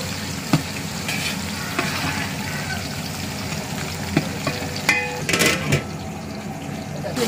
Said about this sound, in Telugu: ఆనియన్స్ కొంచెం బ్రౌన్ కలర్ వచ్చే వరకు వేయండి